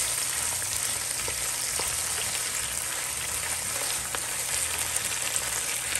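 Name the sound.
saltfish and cabbage sauteing in a pan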